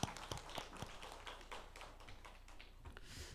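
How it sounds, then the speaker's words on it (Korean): A church congregation claps during a Sunday worship service, a brisk patter of many hands, fairly faint and steady, with no voices over it. "하나님께 우리 영광의 박수를 드리겠습니다"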